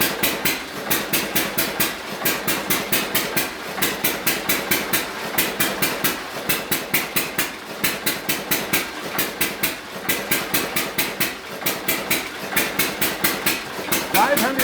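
A hit-and-miss engine turns in a shop under roughly 700 watts of electrical dyno load through a belt, giving a steady loud repeating mechanical beat, regular bursts with a knocking, hammer-like rhythm throughout.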